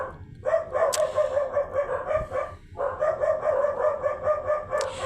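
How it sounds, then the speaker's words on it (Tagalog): A dog barks repeatedly in rapid bursts, fairly close, with a brief pause midway before the barking resumes; a rooster-like call is faintly mixed in. "pasensya na po ang ingay po ng aso namin."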